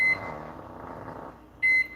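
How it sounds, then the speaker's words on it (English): Low steady microwave oven hum, bracketed by short high electronic beeps at the start and again near the end. "I know the microwave is loud now"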